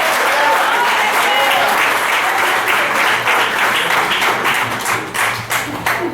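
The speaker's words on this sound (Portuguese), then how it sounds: "Agora aplauda ao Senhor mais uma vez." A church congregation at a Brazilian evangelical congress applauds in praise, a thick, even wash of clapping that holds steady and then tapers off toward the end.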